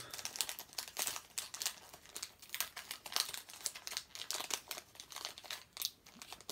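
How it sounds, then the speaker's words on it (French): A Pokémon card booster pack is unwrapped nearby, its foil crinkling and crackling in steady, busy bursts for several seconds with no talking. "je mets du temps à déballer le booster"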